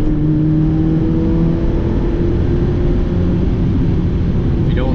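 A Mazda MX5 engine revs hard while driving on the road, a steady loud drone with rising and falling pitch that stays continuous throughout, with some wind and road rumble underneath.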